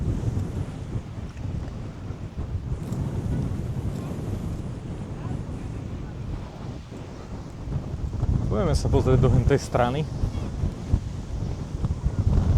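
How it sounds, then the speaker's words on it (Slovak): Strong wind roars steadily against the microphone at the Šianec lookout near the Kráľová reservoir, with a person talking briefly over the rushing gusts outdoors. "Fúka tu brutálne, tu fúka."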